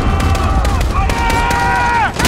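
Gunfire in the Call of Duty Modern Warfare battle for Urzikstan, with a quick run of sharp, loud shots that keep coming under urgent shouting voices.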